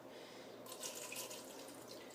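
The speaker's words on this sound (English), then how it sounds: "I'm going to add some water in this" Water pours into a pot on a stovetop set to medium heat, a soft steady splash and trickle that swells after a quiet start, faint and alone.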